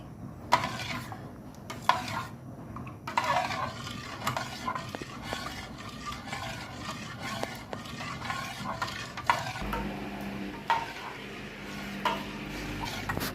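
A spoon stirs cooked gulaman for coffee jelly in a pot, soft scraping and swishing strokes in an uneven rhythm with a few light metallic clinks, close but quiet, no talking.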